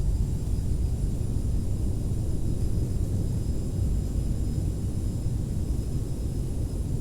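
CRJ 700 thrust reversers roaring just after landing at San Diego in Microsoft Flight Simulator, a loud, steady low rumble of engine noise with a faint high whine throughout, no talking.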